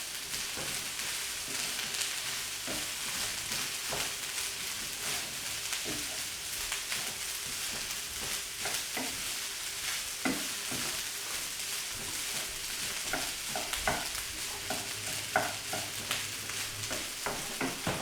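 Vegetables are stirred into egg fried rice in a hot pan, with a steady sizzle of frying under repeated close scraping and tossing strokes throughout.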